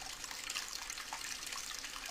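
Water from a farm pump left running pours out steadily, a continuous close splashing rush with no voices over it.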